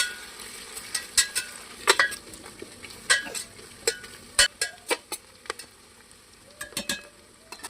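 Onions, bay leaf and whole garam masala frying in a pot for chicken biryani, a soft sizzle under repeated sharp scraping and clinking of a spoon stirring against the pot.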